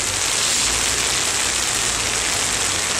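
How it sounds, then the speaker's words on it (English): A hailstorm pounds a street with heavy downpour, a dense, loud, unbroken hiss of rain and hail with a low rumble underneath and no voices. "Not only is this a hailstorm, but it's like substantial downpour."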